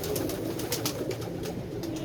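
Pigeons cooing close by in a loft, a steady layered murmur of soft calls running throughout with no voices.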